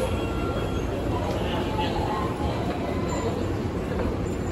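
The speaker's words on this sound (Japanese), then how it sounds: "電車発車いたします" A Tokyo Metro Hanzomon Line local train bound for Oshiage departs Nagatacho station, a loud, steady rumble of motors and wheels filling the platform, with announcements and voices heard over it.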